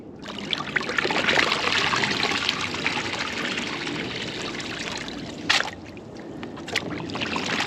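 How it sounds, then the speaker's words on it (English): Miner's moss from a rain-gutter gold sluice is flipped and smacked against water, giving steady splashing and sloshing with a couple of sharper slaps near the end, close and alone. "You flip it upside down and you smack it on the water like this, and it frees up any gold that might be trapped in that miner's moss"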